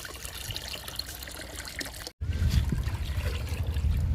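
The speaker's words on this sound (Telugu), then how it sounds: "ఇప్పుడు ఈ లిక్విడ్ని మనం వాటర్లో డైల్యూట్ చేసుకుందాము." A homemade leaf-based plant tonic is poured into water to dilute it. The trickle and splash run steadily and close by, with a brief pause midway, and then the pour returns fuller and heavier.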